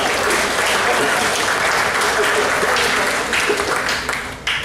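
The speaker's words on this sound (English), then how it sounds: "So let's give that family a big round of applause." Round of applause from a banquet crowd at an all-sports awards dinner honoring a family; dense, steady clapping throughout, easing slightly toward the end with a few voices mixed in.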